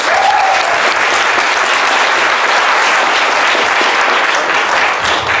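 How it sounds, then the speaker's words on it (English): A large crowd at a Jeunesse Global business event applauds steadily as a speaker is welcomed onto the stage, with dense, loud, sustained clapping that fills the room from start to finish. "So may all of you help me put your hands together for Samson Lee"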